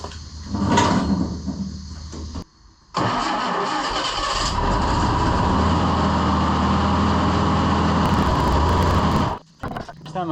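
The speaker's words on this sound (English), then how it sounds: "If I pull the choke back, it fires up like right away." An old JLG manlift's engine, choke pulled, cranks briefly then fires up right away and settles into a loud, steady mid-pitched idle close by before cutting off, with a clunk at the start.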